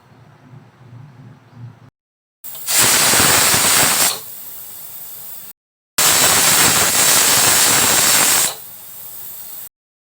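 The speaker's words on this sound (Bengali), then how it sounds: "ঢাকনা লাগিয়ে দিয়ে আমরা 3টা সিটির জন্য অপেক্ষা করব।" A pressure cooker with goat meat inside lets off two long, loud, hissing whistles of steam, each lasting about two seconds and separated by a short silence, over a low kitchen background.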